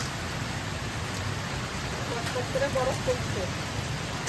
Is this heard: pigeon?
no